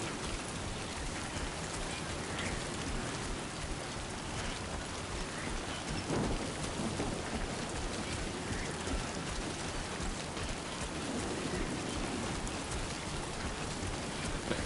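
Steady timefall rain pours in the Death Stranding 2 video game, a dense, even hiss of drops on surfaces that continues without pause through the whole stretch at a constant, moderately loud level.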